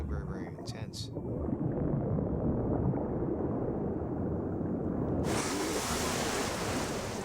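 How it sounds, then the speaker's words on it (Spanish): Huge storm waves churn in open ocean with a deep, continuous roar and rushing wash. A louder hiss of spray and wind swells in near the end. "Ahora estaba en una especie de lavadora gigante, con olas enormes."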